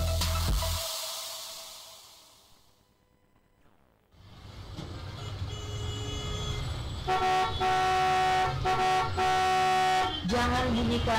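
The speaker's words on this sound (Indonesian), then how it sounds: "Jangan bunyikan klakson berulang kali." A road vehicle's horn honks repeatedly in loud, blaring bursts toward the end, following a stretch of noisy traffic and a quiet gap, part of a broadcast public service announcement.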